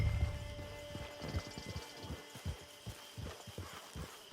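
Horse hooves clip-clopping at a walk in the video game Red Dead Redemption Online, a steady rhythmic series of soft thuds close by with a faint ambient hum behind.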